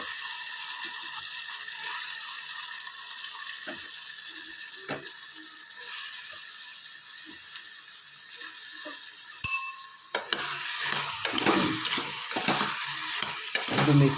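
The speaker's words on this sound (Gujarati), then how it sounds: "સરસ ટામેટા ગ્રેવી થઈ ગયા છે, મસાલો સરસ થઈ ગયો છે. હવે આપણે બટાકા નાખી દઈએ." Potatoes added to a spiced tomato gravy, a steady sizzle under scraping and clattering stirring, louder and busier after they go in, close up with no talk.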